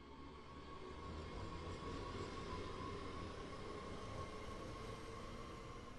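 A BR422 electric multiple unit in Train Sim World on the Rhein-Ruhr line between Wuppertal and Hagen hums and rumbles steadily from the cab, with a faint whining tone and continuous wheel noise, no voices.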